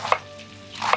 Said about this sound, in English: And let's cut it in shreds.